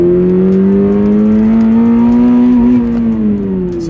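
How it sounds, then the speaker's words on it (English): Toyota GR86 sports car with a manual gearbox accelerating hard, its engine sound generator producing a loud, steady, rising engine note that climbs smoothly for several seconds before easing off near the end. "When you want to get on it, it actually sounds really good, the sound generator"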